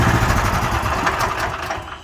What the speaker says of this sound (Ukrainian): для того, щоб мотоблок запустити.